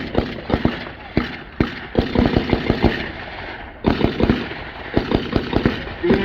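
Rifle gunfire from a fire team at a wartime reenactment open house, a rapid string of sharp cracks from nearby, some overlapping and irregular, over a busy outdoor background.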